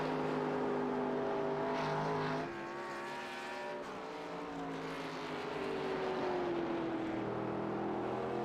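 A race car at Watkins Glen in a Next Gen Old School Series event, engine droning with sustained harmonic tones that shift pitch as it passes and changes gear, fairly steady and moderately distant with no talk.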